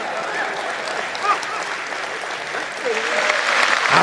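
Audience applause at a Hindi poetry recital, a steady wash of clapping that swells toward the end, with a voice talking over it.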